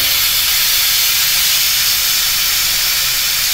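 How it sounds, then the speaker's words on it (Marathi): A pressure cooker with mutton head inside lets off a steady, loud hiss of escaping steam that continues without a break for the whole stretch. "आपल्या एका साईडला शिट्टी पण होत आहे कुकरला मुंडीची"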